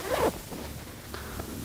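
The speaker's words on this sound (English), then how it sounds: "Try to push the zipper together, and it closes easily." A zipper slides shut on an ottoman's fabric cover, one quick close rasp followed by softer, fainter tugs of the fabric.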